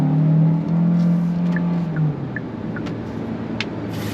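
A 2025 Kia Carnival Hybrid minivan accelerates on throttle in eco mode, its steady engine tone rising and then settling into a broad road and drivetrain hum, heard from inside with no talking.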